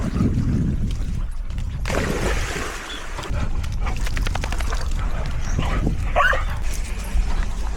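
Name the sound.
dogs playing outdoors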